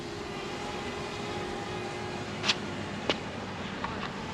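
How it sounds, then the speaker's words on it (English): A Fimi X8 Mini drone in flight, its faint steady motor whine holding on tonal hums, broken by a few short sharp clicks, with no voices. "We bring the drone around the other way here."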